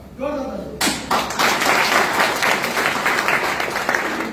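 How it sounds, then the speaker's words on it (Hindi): Applause from a training-meeting audience breaks out after a brief voice, a dense, loud wash of many hands clapping that holds steady for several seconds. "तालियां मारना बहुत अच्छी बात है।"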